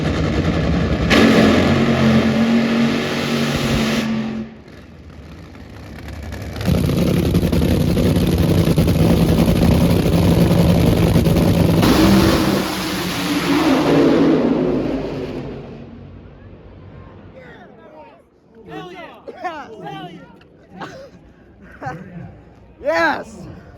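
Race cars at Bristol roaring loudly past in heavy bursts, the engine noise swelling and fading several times, then giving way to excited voices and cheering near the end.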